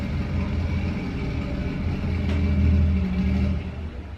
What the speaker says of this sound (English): Do we start this now because they're revving an engine?